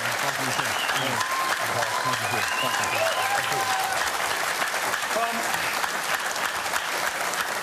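A television studio audience claps steadily and warmly as talk-show guests are welcomed, a dense, sustained applause with a voice faintly audible beneath it.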